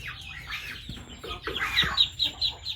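Ducks on a Philippine farm giving short, busy, overlapping calls and clucks close by, with a lively, uneven rhythm.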